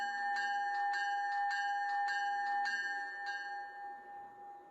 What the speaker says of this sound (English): And the bell sounds pretty good too.